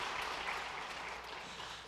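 Congregational applause during a Korean Sunday church worship service, a dense, steady wash of many hands clapping together at moderate volume throughout, with no talking over it.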